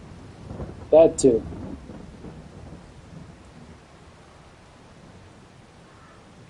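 In-game thunder in Farming Simulator 22, a low rolling rumble that fades away over several seconds, briefly overlapped by a short spoken remark near the start.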